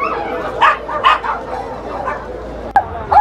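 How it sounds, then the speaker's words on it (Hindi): A small dog at a bird and animal market in Riyadh, Saudi Arabia yips and barks in short, high bursts at fairly close range, with a few sharp yelps and faint background noise between them. "ये छोटा छोटा कुत्ता कितना आवाज कर रहा है, बहुत हल्ला कर रहा है कुत्ता"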